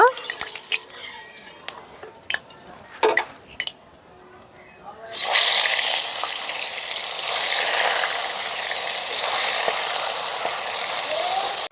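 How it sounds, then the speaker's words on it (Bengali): Bata fish pieces drop into hot oil: a few clattering knocks give way to a sudden loud, steady sizzling hiss that continues to the end. "তেলটা খুব সুন্দর গরম হয়ে গেছে এখন মাছগুলো ভেজে নেব"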